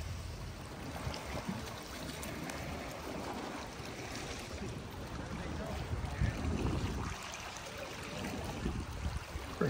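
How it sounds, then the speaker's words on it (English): Small waterfall splashing into a resort pool at a Sandals resort on Jamaica's south shore, a steady broadband rush of falling water heard close, with someone talking over it now and then. "Got a little waterfall inside their little area."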